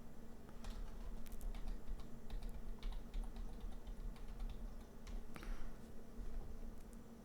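Quick, irregular keystrokes on a computer keyboard as a password is typed, close but faint clicks in bursts over a quiet room hum, no talk.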